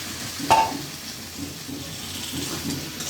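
Green beans (shim) drop into a hot pan of oil with a brief burst of sizzling, followed by steady frying and stirring scrapes at close range while preparing a potato and bean chorchori.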